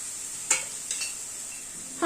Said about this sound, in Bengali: পেঁয়াজ, আদা, রসুন, কাঁচা লঙ্কা সবকিছুকে এই মিনিট 2-3 ধরে একটুখানি কষিয়ে নিলাম।